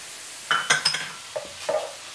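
Onions and garlic stirred in a pan, with a few scraping, clinking stirs and short bursts of sizzling, close and moderately loud against a quiet background while Spanish fried rice is being made.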